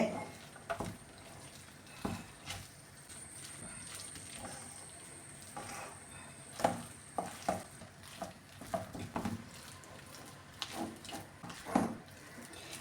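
Masala dosa potato filling stirred and fried in a pan, with repeated scraping strokes of a spoon over a low sizzle, close by and at an irregular pace.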